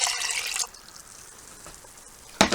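Plain water is poured into a jug of overly sweet wild blueberry wine. A short splashing pour comes first, then a quiet gap, then a second brief splash near the end. It is close and moderately loud, with no talk.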